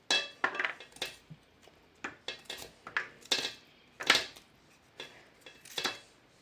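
A knife chops green coconut into small pieces, producing about a dozen sharp, close clicks and taps in an irregular rhythm with quiet gaps between them.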